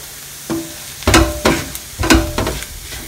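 Coriander powder gets stirred into onions frying in a pan for Kerala fish molee, with a handful of quick spoon scrapes over a soft, steady sizzle.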